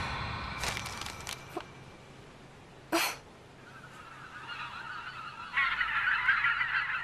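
Cartoon birds honk like geese in a French-dubbed animated episode, first as a brief flurry of calls, then a sharp single honk, followed by a rising, sustained chorus of honking that grows louder toward the end.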